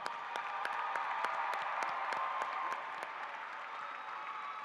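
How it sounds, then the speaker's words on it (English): An audience at a university fall commencement ceremony applauds its graduates with a continuous wash of clapping, a few sharper individual claps standing out above the steady crowd sound. "Please show your love and give them a round of applause"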